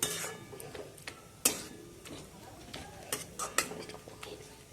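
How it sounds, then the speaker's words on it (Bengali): A spoon scrapes and clinks against a pan while stirring a raw papaya naru mixture with milk powder, quiet rubbing with a few sharp metallic taps scattered irregularly, no voices. "এরমভাবে নেড়ে যেতে হবে"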